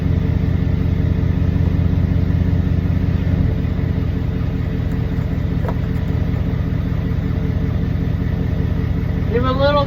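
A 2014 Ford F-150 Coyote engine idling in reverse, a steady close rumble with a constant low drone throughout and a brief whine at the very end.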